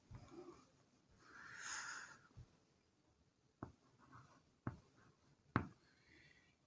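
Marker or chalk strokes on a board while electric field lines are drawn during a physics lesson: faint scratchy scribbles early on, then several sharp taps and short strokes near the surface, with no speech.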